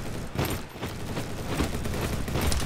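Dense, continuous gunfire from Roblox Bad Business, a first-person shooter, with rapid shots crackling steadily across the whole stretch at fairly close range and no talk over it.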